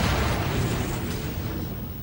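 A supernova explosion sound effect from a space documentary, a loud, deep rumbling roar that fills the full two seconds and slowly fades, with no voice over it.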